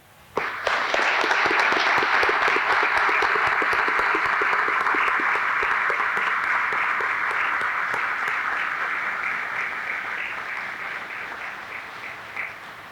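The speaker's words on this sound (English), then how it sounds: "Please join me in a round of applause for this great soldier and commander." Audience at a military change-of-command ceremony applauds a departing commander: a sustained, dense round of clapping that starts abruptly, holds steady for most of its length, then slowly fades near the end.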